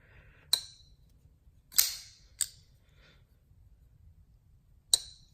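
A ZT 0220 folding knife snapping open and shut, giving four sharp, crisp metallic clicks spaced irregularly over a few seconds, close and isolated against a quiet background.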